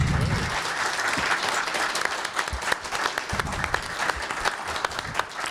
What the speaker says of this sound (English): And can we have another round of applause for all of our winners?